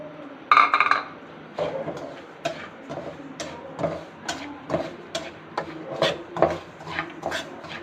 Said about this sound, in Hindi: सूजी को हम बगैर घी के भूनेंगे।